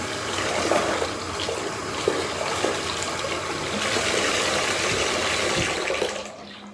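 Water streaming steadily while rinsing product out of long hair, a continuous close, full shower-like rush with small splashes that tapers off at the end.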